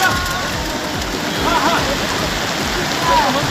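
Dense, broadband hiss of heavy rain pouring steadily, with a few faint tonal chirps or calls in the background.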